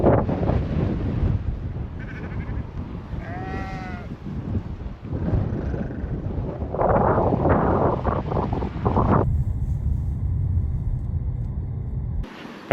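Steady wind rumbles and buffets the microphone throughout on a panoramic route in the Faroe Islands, with a brief animal bleat and passing vehicle noise mixed in.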